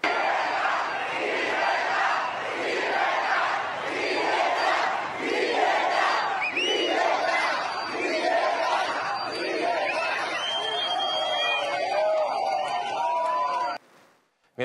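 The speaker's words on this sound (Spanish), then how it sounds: "abucheado y aplaudido." Large crowd outside the Real Casa de Correos balcony greeting Argentine president Javier Milei with mixed booing and cheering: rhythmic mass chanting in repeated surges, then scattered whistles and shouts before an abrupt cut.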